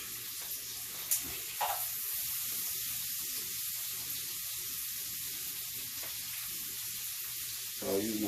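String beans sautéing in a hot pan in a home kitchen, a steady soft sizzling hiss throughout with a few faint clinks and stirring sounds.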